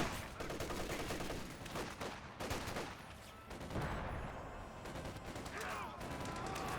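Gunfire and incendiary grenade bursts fill an Age of Empires IV battle, a dense, continuous crackle of shots and blasts running without pause at a moderate level.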